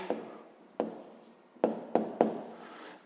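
A pen marks paper in a few sharp taps and short scratching strokes, close and quiet, spaced unevenly as an answer is written by hand.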